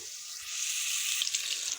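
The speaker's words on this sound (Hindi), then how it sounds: "अब इसमें बीच में डालूंगा लहसुन और सब्ज़ मिर्च। इसको सही भून कर इसको हमने सही कर भूनना है।" Garlic and green chilies fry in hot oil for moong dal, giving a brief, steady bright sizzle heard close and alone.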